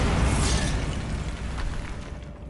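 The Bombarda explosion spell goes off in Hogwarts Legacy as one loud, broad blast that fills the first half-second and then rolls off into a fading rumble.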